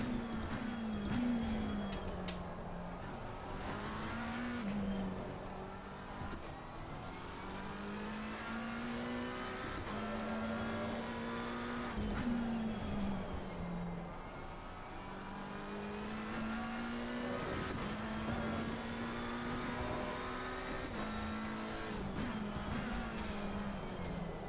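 Onboard engine of a race car lapping at Indy, a continuous close engine note climbing and dropping through gear changes as the car accelerates and brakes through corners, steady and moderately loud.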